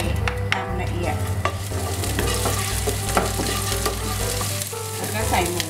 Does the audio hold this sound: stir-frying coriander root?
yes